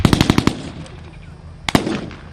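At a military vehicle show battle reenactment, a rapid burst of about six loud gunshots comes first, then after a pause a single sharp, loud artillery blast rings out and its echo lingers.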